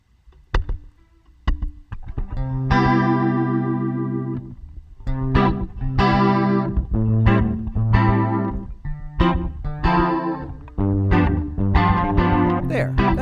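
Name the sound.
guitar with slapback delay and reverb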